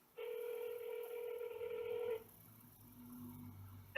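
A telephone keypad sounds a single sustained dial tone for about two seconds, fairly clear and alone, followed by a lower, quieter tonal hum and a brief click at the end.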